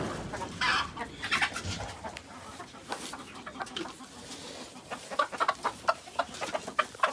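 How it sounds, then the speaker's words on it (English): Gamefowl chickens cluck close by in short, irregular bursts, with a few sharper squawks standing out from a quiet farmyard background. "Ornamental chickens."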